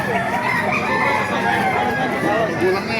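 Roosters crow and chickens cluck at a busy chicken market in Baliuag, Bulacan, loud and close, several birds overlapping amid crowd noise and nearby voices.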